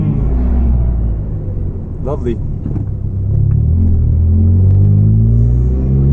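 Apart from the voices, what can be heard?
Volvo 440 car engine with massive exhaust leak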